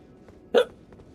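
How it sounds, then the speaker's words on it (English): One sharp, brief hiccup from a person, close and clear against a quiet room background, with no talk. "Oh, got hiccups."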